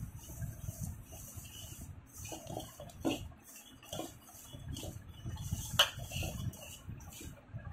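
Yogurt is worked into flour for homemade pizza dough in a bowl, a soft steady rubbing and scraping with a couple of light clinks from the bowl and spoon, close and quiet, no talk.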